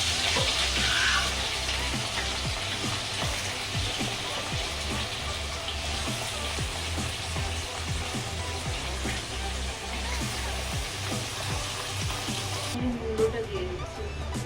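Potatoes frying in a pan give off a steady, close broadband sizzle and hiss that runs throughout, with faint voices in the background.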